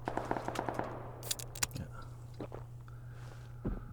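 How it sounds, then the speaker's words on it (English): AK rifle fire in PUBG on the Miramar desert map: a rapid run of fairly quiet shots at the start, then a few scattered single cracks and a last louder report, all at modest distance. "I'm going to finish him with this AK"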